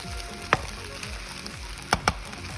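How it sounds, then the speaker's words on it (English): Soy sauce hitting hot shrimp fried rice in a pan, a steady frying sizzle with a few sharp crackling pops standing out, close and alone without talk. "I start to simmer the soy sauce over the rice"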